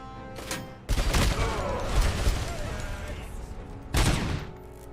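Sustained video-game gunfire in a combat scene with grenades being thrown, a loud dense barrage of rapid shots and blasts running through most of the stretch, with a fresh burst near the end.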